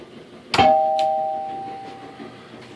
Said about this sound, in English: Turn it on just like a regular pinball machine